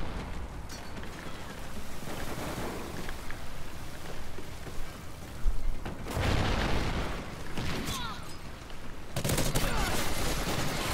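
Call of Duty Ghosts online match gunfire: a dense, crackling wash of distant shots and bullet noise rattles throughout, with heavier bursts and booms flaring near the middle and end.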